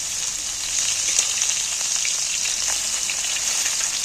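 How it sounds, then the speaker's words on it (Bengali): Steady, loud sizzling of prawns frying in hot oil in a pan on a gas flame, a continuous crackle with small pops throughout, no voices. "আমি কিন্তু ভাজছি"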